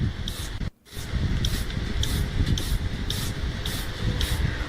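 A spray bottle puffs out mist in a quick repeating series of short hissing bursts, steady and close, over constant background noise during a European heatwave.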